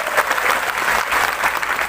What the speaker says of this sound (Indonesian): Tepuk tangan dulu dong buat panitia.